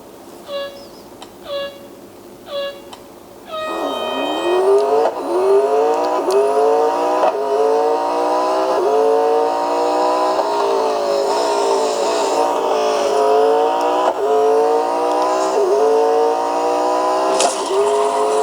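Racing video game on a Xiaomi Mi Pad 5 Pro tablet, with a few short menu blips and then a loud car engine revving and climbing through repeated gear shifts, a steady sustained whine running throughout, with no speech.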